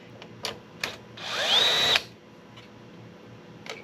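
Power screwdriver removing screws from a Briggs & Stratton carburetor, a single short whirring burst of under a second rising in pitch, surrounded by a few light clicks and handling taps.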